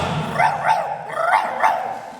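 A person imitates a dog barking during a comic folk song concert, giving about four short, voiced woofs in an uneven rhythm, close and fairly loud.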